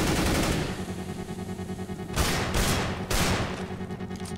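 Rapid automatic gunfire in CS:GO, loud and close, in a dense burst followed by several sharper repeated bursts with a short echoing tail.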